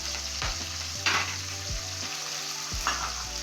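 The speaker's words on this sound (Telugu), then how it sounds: "ఇట్లా వేగినాయండి ఉల్లిపాయలు." Chopped onions, green chillies and curry leaves fry in hot oil in a pan, a steady close sizzle with stirring scrapes and clanks of a utensil against the pan, no voices.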